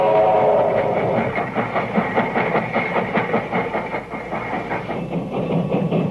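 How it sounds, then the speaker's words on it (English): A vintage 1890 steam locomotive with six driving wheels rolling along the rails, a steady rhythmic clickety-clack of wheels over track joints with a low heavy rumble beneath, loud and continuous. "This perky museum piece with its 6 churning driving wheels was new in 1890."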